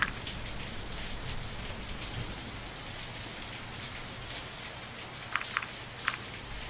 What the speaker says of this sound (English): It's raining pretty heavily outside